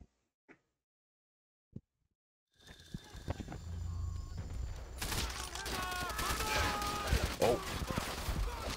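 Call of Duty: World at War gameplay: after a few quiet seconds with faint ticks, dense gunfire erupts and builds into loud rapid bursts and volleys that continue steadily to the end, with a brief spoken exclamation.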